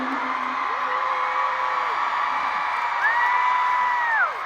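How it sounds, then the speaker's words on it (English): A K-pop concert crowd at a show in Newark cheers and whoops with sustained, rising and falling shouts, loud and steady throughout, with no clear clapping standing out. "Please clap for him."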